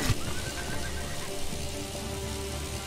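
A horse whinnies once near the start inside the online hero shooter Paladins, a short neigh rising over a steady wash of game ambience that carries on to the end.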